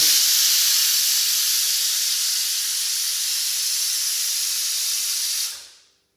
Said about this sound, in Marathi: गॅस 1 शिट्टी होऊन द्या